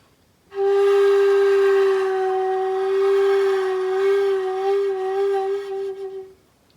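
A single sustained flute tone held for about six seconds, swelling in and gently wavering with vibrato before fading out, played alone.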